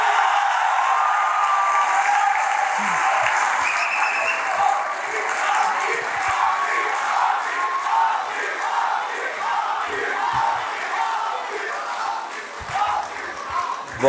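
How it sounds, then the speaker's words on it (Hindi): Sustained applause from a large audience at a mushaira poetry gathering in Lahore, welcoming a poet to the stage; dense, steady clapping fills the whole stretch with scattered cheers and crowd noise, no speech over it. "भरपूर तालियों में इस्तकबाल कीजिए"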